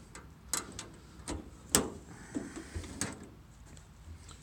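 The lower drawer of a Broil King vertical smoker is handled, giving a series of irregular metallic clicks, scrapes and knocks, close and fairly quiet.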